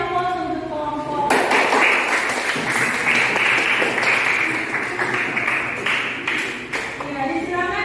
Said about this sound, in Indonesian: Kita kasih aplaus untuk kelompok.